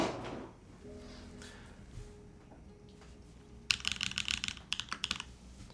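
Typing on a newly built mechanical keyboard with a dark keycap set: after quiet handling and light rustling, a burst of crisp, close, rapid key clacks fills the last couple of seconds.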